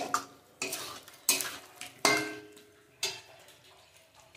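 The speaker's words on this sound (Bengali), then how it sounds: "সব কিছু সুন্দর করে নেড়ে নেব।" A spoon stirs a Bengali dish of fried eggs with garam masala and sugar in a cooking pot, giving a series of sharp metallic scrapes and clinks at an uneven pace, close and clear.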